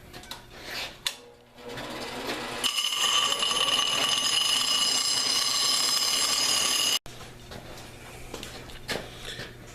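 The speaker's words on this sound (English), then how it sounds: "But I'm just going to clean that up on the grinder." An angle grinder rounds the ends of twisted angle iron in a blacksmith's shop, a loud sustained high whine that holds steady for several seconds and then cuts off abruptly, with workshop clatter before and after.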